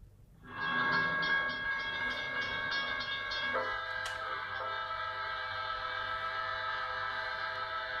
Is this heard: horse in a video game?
no